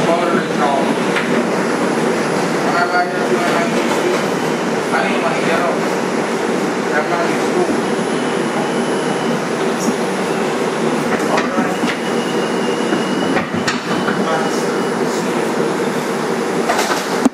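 Onboard a 2001 Bombardier 2 train, car #6676, on the IRT White Plains Road Local: continuous loud rumble of the subway car in motion, with scattered sharp clanks and knocks over the steady roar.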